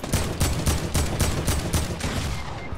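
Rapid bursts of video game gunfire, loud and close, sharp shots repeating in a quick irregular rhythm over nearly three seconds with no talking.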